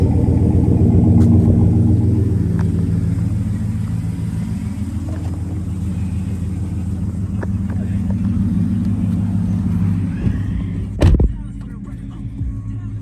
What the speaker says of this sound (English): There's your custom exhaust.